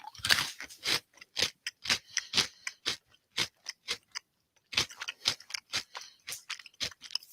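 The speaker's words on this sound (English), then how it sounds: "Let me try that gingerbread one again. White and dark chocolate gingerbread." Crunchy white and dark chocolate gingerbread cookie being chewed close to the mic, a steady run of crisp bites and crunches with a short pause midway, no talk.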